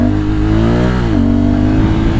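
A Honda Africa Twin motorcycle accelerates hard on the road, its engine note rising steadily, then dropping briefly as it shifts into second gear and pulls again, loud and close with steady wind behind it.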